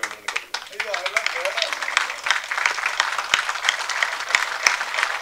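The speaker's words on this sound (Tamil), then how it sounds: "அனைவரும் கைத்தட்டி எழுந்து நிற்க வேண்டும்." Audience at a South Indian film writers' association press meet breaking into sustained applause, dense clapping that swells and continues steadily after a brief spoken phrase at the start.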